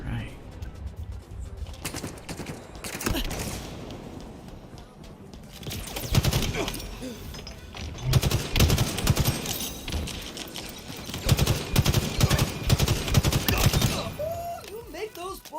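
Gunfire in Halo Infinite multiplayer: repeated bursts of automatic shots crackling in clusters, with game voice lines and talk heard over the shooting.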